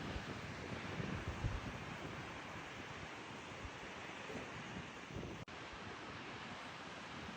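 A waterfall in a mountain valley of rock formations at Mureung Valley, Korea, gives a faint, steady broadband rush heard from a distance, with slight wind buffeting and no voices.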